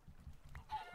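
Minecraft chickens clucking, faint soft clucks in a quick rhythmic series over about a second, close by and without talk.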